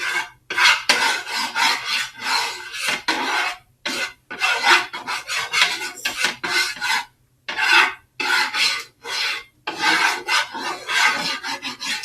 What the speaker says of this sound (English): you can use your spatula to spread it around